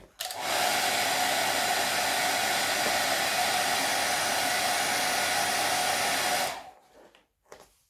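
A heat gun blows a steady, loud roar for about six seconds while heating carbon-look wrap film on a motorcycle fairing, then cuts off abruptly, leaving near silence with a few faint handling noises.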